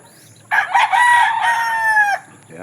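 A rooster on a backyard farm in Sibulan, Negros Oriental lets out one loud, close crow lasting over a second and a half, rising then held, over a quiet background.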